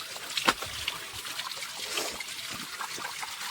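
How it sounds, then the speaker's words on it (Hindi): Slippers are rinsed in flowing waterfall stream water, giving a steady trickle and rush with small splashes, close and moderately quiet. "मेरी चप्पल धोता हूँ मैं"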